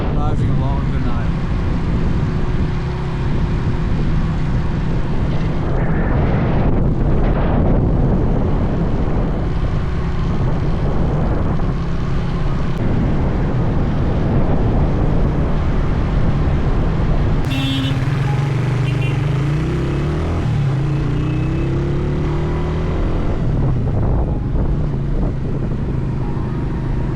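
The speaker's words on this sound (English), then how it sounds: "Driving along the Nile." A motorcycle rides along the Nile through busy Cairo traffic, its engine droning steadily and loud throughout amid surrounding cars, occasional horn toots and passing vehicles, with a rider speaking intermittently over the road noise.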